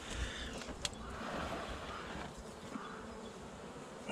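A steady, droning hum of a large honeybee colony buzzing close by during a winter hive check, with a few sharper clicks and knocks in the background and no talking.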